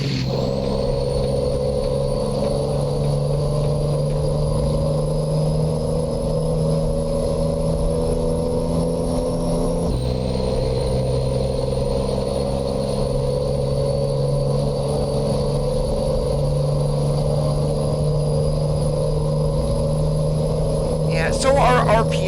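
A simulated truck engine with an Eaton Fuller Super 10 transmission in American Truck Simulator holds a steady loud drone at high revs throughout. There is a brief shift dip near the middle, and speech runs faintly over it.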